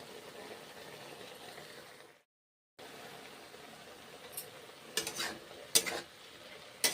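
Green banana, papaya, cauliflower and bitter gourd being sautéed with spices and green chilli in a pan: a soft, steady sizzle that cuts out briefly, then returns with a few sharper scrapes and clatters from stirring.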